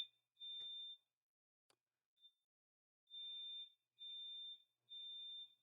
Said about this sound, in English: I think that my building is doing like fire alarm testing